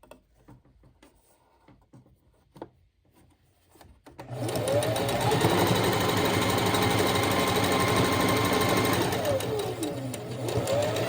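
A sewing machine stitching fabric back ties or straps: near-silence with a few faint handling clicks, then a loud, continuous whirring stitch run that carries on to the end.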